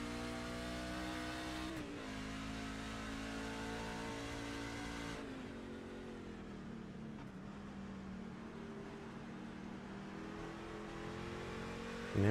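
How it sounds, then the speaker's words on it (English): Race truck engine revving on the Watkins Glen road course, a continuous loud drone with rising and falling pitch as the throttle is worked through gear changes, heard alone without voices. "Looks like Matt's got pretty good throttle control there."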